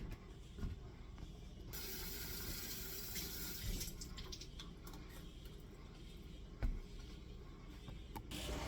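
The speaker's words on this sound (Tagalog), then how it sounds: "Kasi maliliit yung pot niya, kailangan dahan-dahan yung paglalagay ng tubig." Water poured slowly from a homemade pouring container into small plant pots during spring planting, a steady soft trickle and splash running continuously at moderate level with a few brief louder knocks and clatters.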